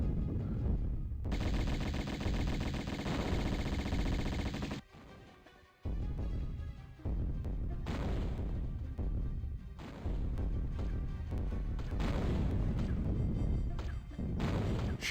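Enemy gunfire in Tomb Raider (1996): loud bursts of rapid machine-gun fire and repeated shots, broken by brief pauses and a short near-silent gap, with crashing impacts.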